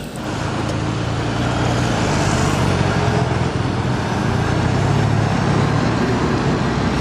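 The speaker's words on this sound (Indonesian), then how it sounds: "Wow, ada truk kontainer." A container truck sound effect: a steady, loud, rumbling engine drone with broad road-like noise that holds at an even level for several seconds, with no voices.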